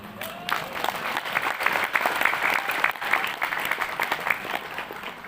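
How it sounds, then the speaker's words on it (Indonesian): Audience clapping during a political speech in Indonesia, a sustained dense round of applause from a large crowd, loud and steady with slight surges, a brief voice near the start. "Tepuk tangannya kurang"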